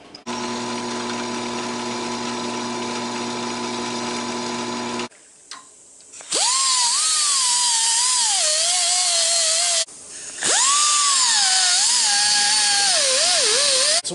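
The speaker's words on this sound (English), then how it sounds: "drill a hole right through here" A power drill runs loudly in long bursts, its whine dipping and wavering as the bit bites in, with brief pauses between runs.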